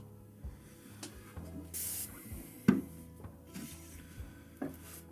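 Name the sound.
spraying water onto trimmed clay pottery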